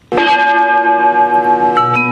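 A recorded imitation of a church bell, played loudly from a parish church at night and audible across town, gives one sustained ringing peal with rich, steady harmonic overtones that hang and slowly fade, with no talk.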